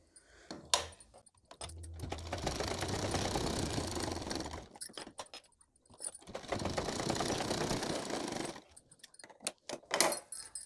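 A sewing machine stitches a folded drawstring casing on a fabric potli bag, running in two steady whirring bursts with a pause between them, fairly quiet and with no talking.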